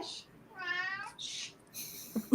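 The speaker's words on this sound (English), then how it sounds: "Your cat wants to get in the conversation." A house cat meows up close in a few short, rising calls, with breathy bits between them and a faint voice at the end.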